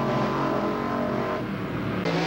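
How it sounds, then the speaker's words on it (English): A rear-engine dragster racing an original altered street roadster at a drag strip: a loud, sustained engine roar with a dense rasping exhaust that shifts pitch slightly as the cars run. "Jim Tracy out of the Crow's Nest Pass with his rear-engine dragster takes on Vern Schultz with his original altered"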